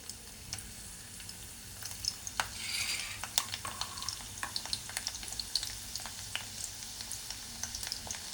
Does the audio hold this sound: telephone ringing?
no